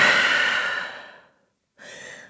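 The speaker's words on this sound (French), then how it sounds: "Et grande respiration ici." Deep breathing during a yoga session: a long, loud, airy exhale that fades out, a brief silence, then a softer breath starting again, close and alone.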